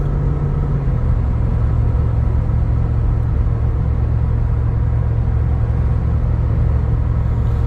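A Jeep cruising down a road on adaptive cruise control in strong wind, with a steady low engine and tire rumble under constant wind roar that never lets up, close and loud throughout, with no talking.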